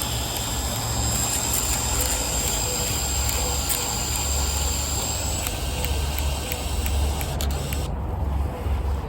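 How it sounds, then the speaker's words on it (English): An APS film camera automatically rewinds its film after the last frame, giving a steady high motor whine that runs for several seconds, shifts, then cuts off abruptly near the end. "When you expose the last frame on the film, the camera automatically rewinds."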